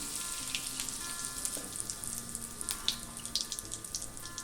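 Asafoetida sizzles in hot oil for a chicken sukka, a steady bright crackling fizz with scattered sharp pops throughout, close and alone with no speech.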